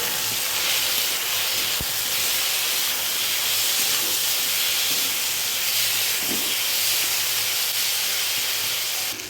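Ginger-garlic paste sizzles in a hot pan with tomato and green chili for a taro curry, a loud, steady hiss that runs unbroken from start to finish with no one talking.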